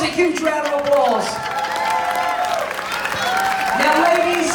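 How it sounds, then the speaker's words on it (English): An audience at a Hairy Chest Contest on the Carnival Splendor cruise ship bursts into applause and cheering, mixed with loud whoops and a crowd hubbub, while a voice carries over the noise. "Give these boys a huge round of applause."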